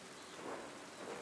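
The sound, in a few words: rain in the video game Pentiment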